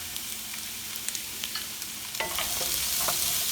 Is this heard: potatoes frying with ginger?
yes